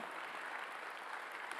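A church congregation at a Sunday worship service claps together in a brief, even burst of applause, moderately distant and fairly quiet.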